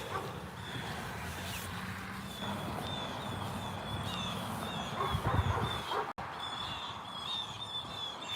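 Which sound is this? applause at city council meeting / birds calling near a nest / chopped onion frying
birds calling near a nest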